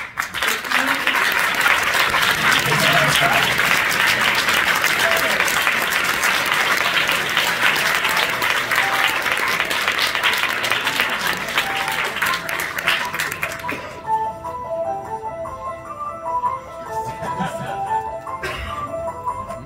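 Loud, sustained audience applause at the closing award ceremony of the FEFFS 2024 film festival, a dense roar of clapping for about fourteen seconds that then gives way to music.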